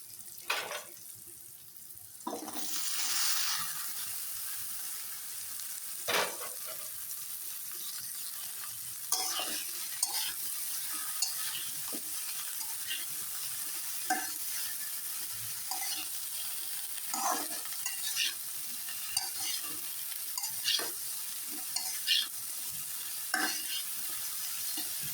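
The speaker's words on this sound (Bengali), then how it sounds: "মশলাটা পুরো ঢেঁড়সে মিশিয়ে দিয়ে ঢেকে দিচ্ছি।" Okra being stirred with spices as it fries in a pan, a steady soft sizzle broken by repeated scraping and clinking strokes of the spoon, close by, with no talk.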